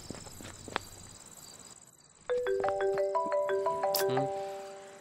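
A mobile phone ringtone plays a bright, stepped electronic melody of clear tones that starts suddenly midway, following quieter footsteps and ambient background noise.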